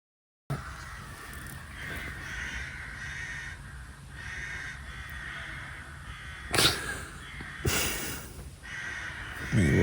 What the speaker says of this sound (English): There's gotta be like 30 crows out there.